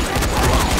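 A rapid burst of firecrackers crackles in the zombie game Dying Light, a dense, loud string of pops packed into under a second.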